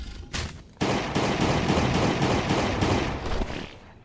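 Rapid Glock pistol fire in Last Day on Earth crackles in a steady, evenly spaced string of loud, close shots lasting several seconds before tapering off.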